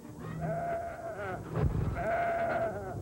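A goat bleats twice in wavering, nasal cries near the microphone, with a short scuffle of movement between the two calls.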